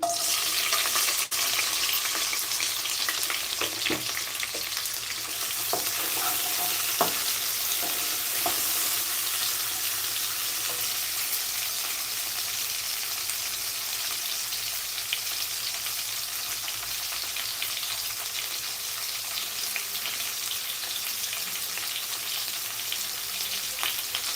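Green chilies, onions and curry leaves fry in hot oil in a pan with a loud, steady hissing sizzle that runs unbroken throughout. Faint occasional stirring clicks sound beneath it.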